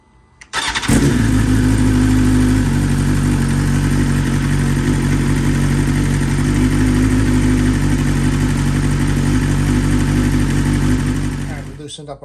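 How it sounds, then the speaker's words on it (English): A 2020 BMW S1000RR motorcycle engine cranks and fires, then runs at a loud, steady idle close by for about eleven seconds before cutting off. "So we'll go start the bike right now."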